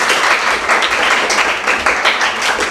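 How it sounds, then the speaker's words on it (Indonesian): A small class applauds a student after a history presentation in a classroom, brief ragged clapping with uneven bursts, fairly close and alone without clear talk. "tepuk tangan untuk Aida"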